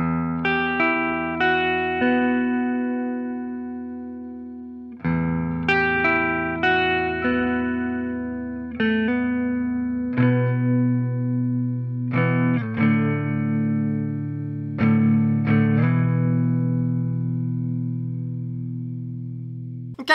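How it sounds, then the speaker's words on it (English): A black Gibson Les Paul CM electric guitar with a Floyd Rose bridge rings out through effects: strummed chords and single picked notes sustain and decay in loud, clean, shimmering phrases, with no talking. "let's go ahead, plug this beauty in and hear how it sounds."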